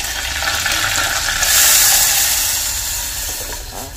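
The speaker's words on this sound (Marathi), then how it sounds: "छान असा लाल झालाय कढी पत्ता टाकून" Curry leaves hit hot oil in a tempering for kadhi, giving a bright, steady hiss and crackle that swells into a louder sizzle partway through, then eases.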